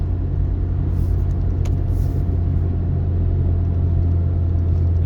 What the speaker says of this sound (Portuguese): dia de chuva, o carro não engasga, marcha lenta original